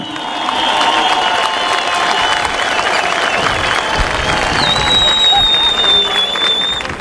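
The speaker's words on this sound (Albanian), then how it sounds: "Një duartrokitje për këtë ekip mrekullueshëm." A large crowd at an outdoor political rally in Vlorë claps and cheers steadily for a team on stage, a dense, loud, continuous wave of applause with a faint whistle rising over it.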